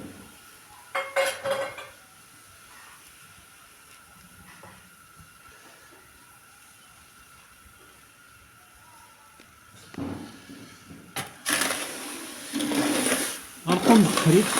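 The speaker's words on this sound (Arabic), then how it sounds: "غنقوم بالتحريك" A metal pan of chickpeas roasting in hot sand is stirred, giving a gritty scraping and rattling that comes in short bursts early on and grows louder and continuous toward the end.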